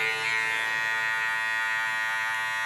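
Electric hair clippers buzzing steadily and close by as a barber fades the sideburns on a curly haircut, a constant bright whine with no gaps.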